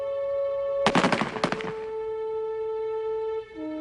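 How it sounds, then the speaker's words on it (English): A firing squad fires at a French military execution, a burst of loud overlapping rifle cracks lasting about a second, heard over a steady droning musical tone. "The order is given to fire."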